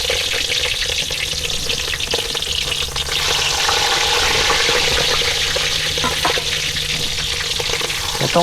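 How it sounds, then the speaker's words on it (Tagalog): Steady, dense sizzling of food frying in a hot pan, continuous crackle and hiss throughout with no voices. "Prito na lang natin."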